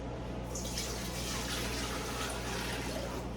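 Water pours steadily and fairly loudly into a pot, a continuous rushing splash over a low background hum.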